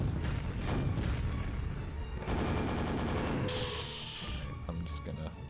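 Rocket launcher fire in the shooter game Quake, dense explosive booms and gunfire layered over a busy battle mix, loud and continuous throughout.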